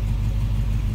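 A 1940 Ford Deluxe hot rod with a 350 V8 engine on a Pontiac Grand Prix chassis, its deep engine rumble running steady and loud close by, with no talking.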